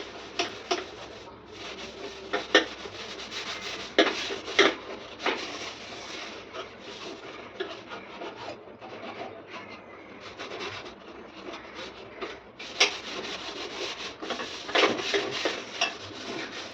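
Soap scrubbing on a gas stove top during household kitchen cleaning: close, rough rubbing strokes repeat in uneven bursts, with brief scraping clinks against the metal burners.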